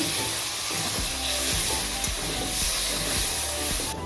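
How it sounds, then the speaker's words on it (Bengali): Ground spice masala of cumin, coriander, chilli, salt and turmeric sizzles loudly and continuously after a little water is added, with occasional stirring scrapes in the pan. "এখন আমি মশলাটাকে ভালো করে কষিয়ে দিচ্ছি সামান্য একটু জল দিয়ে দিচ্ছি"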